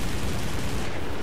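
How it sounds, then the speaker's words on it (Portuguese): Dense, continuous rattling bursts of rapid machine-gun fire from a Ki-61 fighter plane's guns in War Thunder, loud and close, with no pauses. "o barulho dessa metralhadorazinha aqui do Ki-61, essas metralhadoras com 50 japonesas, é uma delícia"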